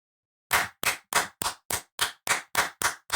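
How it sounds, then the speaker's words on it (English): Ten loud, sharp hand claps in a steady rhythm, close and alone after a short silence. "I gotta make that clap loud, bro."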